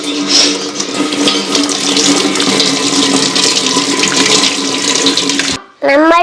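Tap water runs steadily and loudly over plastic items being washed, a continuous close gush that cuts off near the end before a voice speaks.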